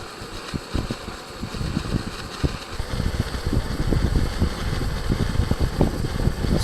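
A fan at its slowest speed blows wind onto a camping stove fitted with a windscreen, giving a continuous rushing buffet with uneven low thumping gusts and a steady hum behind it.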